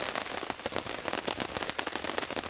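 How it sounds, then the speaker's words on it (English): Rain pattering steadily on a tarp at a camp with no tent, dense irregular taps and crackly drops close overhead, soft and constant with no voices. "It's peaceful with the rain falling."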